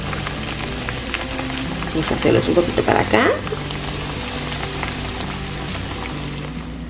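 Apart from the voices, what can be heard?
breaded beef milanesas frying in a pan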